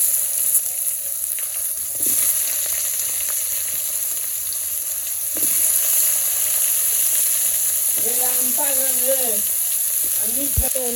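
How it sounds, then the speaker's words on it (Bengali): Eggplant and potato pieces fry in a pan in a village kitchen, sending up a steady close sizzle with occasional stirring scrapes and clinks. "বাজে বেগুন আর আলু দিয়ে দিই"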